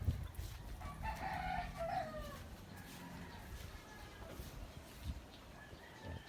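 Several chickens sound around a coop where four mother hens sit brooding on eggs, with clucking and a rooster-like call that is moderately loud near the start, then softer, scattered fowl calls.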